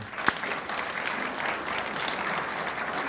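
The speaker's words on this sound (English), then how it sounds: "Let's give our employees a round of applause if we can." An audience at a city neighborhoods address gives city employees a round of applause. A sharp single clap opens a steady, moderately loud wash of clapping that continues throughout.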